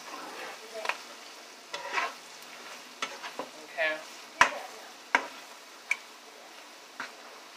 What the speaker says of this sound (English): Now we're just going to move this all around the pan.